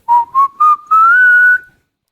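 Three short notes whistled by drawing air inward, followed by one longer, gradually rising note, clear and close with a slightly airy, breathy tone.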